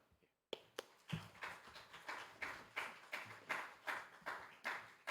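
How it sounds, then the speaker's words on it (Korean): A university chapel audience claps to welcome a visiting professor and pastor: after a brief silence, a burst of applause settles into steady, rhythmic unison clapping, fairly close and clear. "우리 나오실 때 큰 박수로 환영의 박수 하겠습니다."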